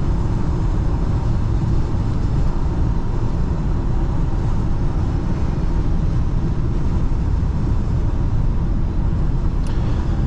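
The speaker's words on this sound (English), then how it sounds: "let's give it half throttle one more time, and you see, it doesn't downshift, it doesn't do anything, it just goes." A 1998 BMW 750iL with a V12 pulls away at half throttle, heard from inside the cabin as a continuous, fairly loud broadband rumble of engine and road noise without any break.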